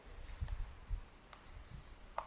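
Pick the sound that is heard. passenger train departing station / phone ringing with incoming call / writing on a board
writing on a board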